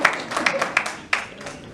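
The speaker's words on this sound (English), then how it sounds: "Let's clap for that." A short burst of scattered hand claps from a small audience at a candidate forum, uneven and fairly close, fading after under two seconds.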